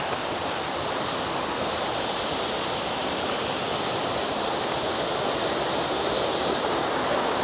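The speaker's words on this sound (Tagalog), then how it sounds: "Yan yung unang waterfalls na ating nadaanan patungo pa doon sa dalawa." A waterfall at a nature park rushes in a dense, continuous roar, loud and close, holding steady throughout with no voices or other sounds.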